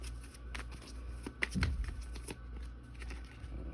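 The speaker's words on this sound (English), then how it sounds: "But I'm gonna shuffle right now" Tarot cards shuffled by hand, a soft continuous riffling and flicking of the deck with a few sharper slaps, close and fairly quiet, with no talking over it.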